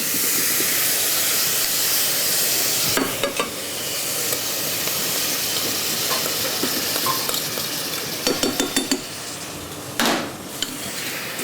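Strawberries and rhubarb with sugar cook in a pan, giving a steady close hiss and sizzle with a few brief clattering stirs and knocks.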